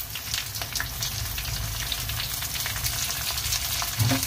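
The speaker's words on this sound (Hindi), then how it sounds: "बस हल्का हमको इसको फ्राई करना है, ज़्यादा नहीं" Panch phoron spices frying lightly in oil alongside ginger-garlic paste and onion for a prawn and chana dal gravy, a steady crackling sizzle with occasional spoon scrapes, no voices.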